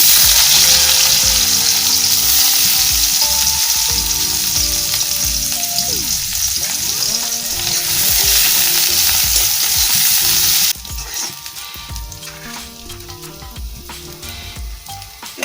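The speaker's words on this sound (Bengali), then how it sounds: "তো পেঁয়াজ দিয়ে দেবো" Chopped onions drop into hot oil and fry with a loud, steady sizzling hiss. The sizzle settles to a quieter crackle partway through, and no one speaks.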